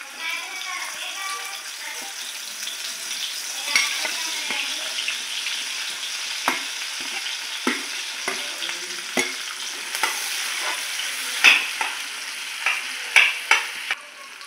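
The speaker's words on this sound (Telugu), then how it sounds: "నూనె కాగిపోయింది కదా, ఉల్లిపాయలు వేసుకుందాం." Onions frying in a glass of hot oil in a pan, a steady close sizzle with occasional stirring scrapes and crackles, while a person talks intermittently over it.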